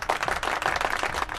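A crowd at a Houston Texans versus Pittsburgh Steelers football game breaks into a dense burst of applause and clapping, loud and continuous over the brief moment, with no speech.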